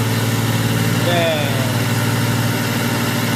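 A four-year-old John Deere tractor engine idles steadily with a low, throbbing rumble that holds constant throughout, close to the listener.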